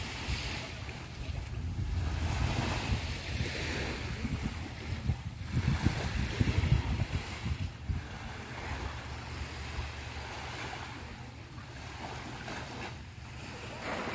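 Surf washes onto Laem Ngah beach in Phuket, a steady broadband rush of waves with gentle swells and wind noise across the microphone, fairly close and continuous with no talking.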